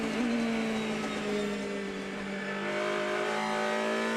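Onboard a DTM race car at Spielberg in 2018, driven by Sebastian Ogier during qualifying: a loud, steady high-pitched engine drone holds near constant pitch, with a slight rise and dip, and no voices.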